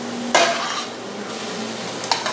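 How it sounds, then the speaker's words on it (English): Zucchini and shrimp sizzle steadily in a hot pan while a utensil scrapes and clinks against the metal a couple of times, close by, with no voices. "Let's have this sizzling going on here."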